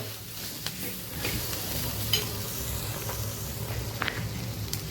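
Onions, ginger-garlic paste, dried red chillies and turmeric fry in a pan, giving a steady close sizzle with occasional stirring scrapes throughout, and no talk.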